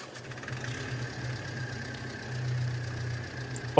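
A tractor engine in Farming Simulator 22 on the Horbani collective farm map rumbles with a steady low drone, swelling slightly midway, with no voices over it.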